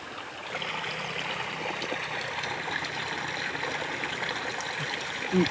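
Irrigation water runs through a furrow in a sugarcane field with a steady, even trickle and rush, close and unbroken for the whole stretch, with no voices.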